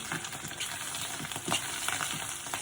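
Spaghetti dish with mushrooms cooking in a home pan, steady close sizzling and crackling of frying food with occasional stirring scrapes, no talking.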